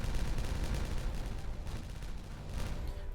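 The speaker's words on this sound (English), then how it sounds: "Let's detonate this corner." Explosives detonate underground in the Timberborn city-building game, a dense run of rumbling, crackling blasts that rolls on continuously and loudly, with no voices over it.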